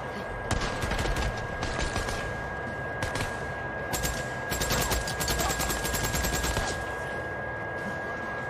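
Enemy machine gun fire in the video game Days Gone, rapid repeated bursts over several seconds at moderate loudness, with someone talking at times over the shooting.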